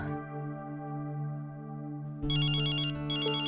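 A phone ringtone plays loudly and close, a sustained electronic melody joined by bright repeating chimes partway through, with no talking.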